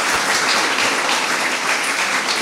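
A lecture audience in Varese applauds visiting architects, loud dense clapping filling the whole stretch without pause.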